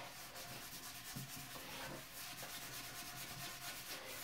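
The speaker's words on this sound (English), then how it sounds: "Give it a good scrub here. All around, under the bowl," A brush scrubs around the inside of a toilet bowl to clear hard water stains, making quiet, steady rhythmic rubbing and scraping strokes.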